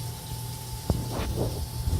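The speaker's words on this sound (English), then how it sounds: "I'm going to wash my hands off a little bit, a little soap and water" Running tap water splashes steadily as hands are washed with soap, with a low background hum, a few brief clinks and scrubbing sounds breaking through near the middle.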